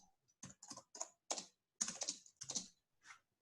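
Programming code being typed on a computer keyboard: close, clear keystrokes in short uneven bursts, with brief pauses between clusters of taps and no talking.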